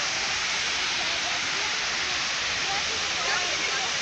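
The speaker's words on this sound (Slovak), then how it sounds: "takže sme pri nejakej fontáne alebo vodopáde alebo čo to je" A fountain or waterfall in Vienna gives a loud, steady rush of water, a continuous broadband hiss with no break from start to end.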